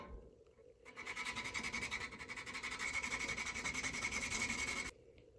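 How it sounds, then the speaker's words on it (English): Hand sanding of hard bloodwood knife scales for a woodcraft knife kit, a steady rhythmic rasping rub that starts after a brief pause and stops abruptly, close and fairly quiet. "Got to make sure you keep even pressure, otherwise it starts to sand the ends more so than the middle."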